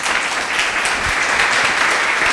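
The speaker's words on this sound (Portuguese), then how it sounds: "Palmas para Ele, bem forte." A church congregation applauds for Jesus during a worship service, a dense, loud and continuous wash of many hands clapping together with no pauses.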